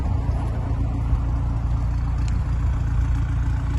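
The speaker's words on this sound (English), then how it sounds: "Exhaust sounds fantastic." Renaultsport Megane 250 Cup with the Cup pack, its exhaust running as a steady, loud, broadband engine rumble close by, with no distinct pops or bangs standing out.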